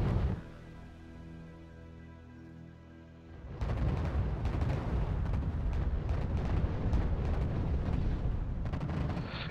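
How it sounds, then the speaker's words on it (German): Artillery fires from a distance in the RTS game R.U.S.E., a dense rumble of booms and blasts that starts suddenly partway through after a quieter stretch of low droning ambience, then continues loud and steady. "Ja, Artillerie schießt auch von weitem, das ist klar."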